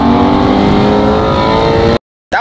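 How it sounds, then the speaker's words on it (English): A Ford Mustang GT350 engine revs loud and close as the car pulls away, a strong sustained growl that cuts off abruptly before returning briefly. "My car's warming up, man."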